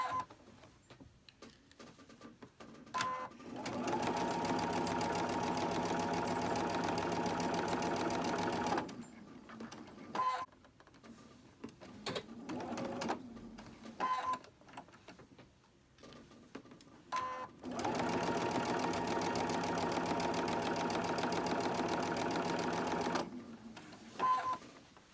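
A sewing machine stitches pinned flying geese quilt pieces in several long bursts, a fast rhythmic whirring hum separated by pauses with small clicks and handling sounds.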